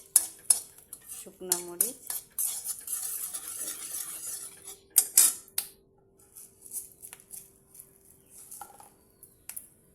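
Dried red chillies drop into a pan of hot oil with bay leaves for a Bengali dal, followed by a clatter of utensil against metal, stirring scrapes and a light sizzle, close and intermittent with quieter gaps.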